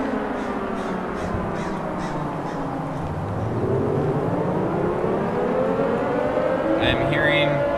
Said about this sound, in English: Nuclear sirens have gone off, and the gate that was previously closed is now opened.